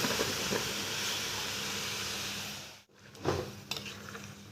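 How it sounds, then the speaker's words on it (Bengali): Raw mango pieces in melted jaggery bubble and sizzle softly in a pan, then after a brief cutout a spoon scrapes and stirs through the sticky mixture in a few short strokes. "এইভাবে একটু মাঝে মাঝে নাড়াচাড়া করে নিচ্ছি"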